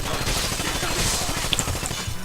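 Gunfire in Rainbow Six Vegas 2, with a run of rapid shots and sharp reports over a busy game soundscape, while a player talks over the action.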